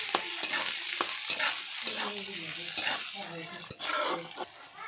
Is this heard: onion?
yes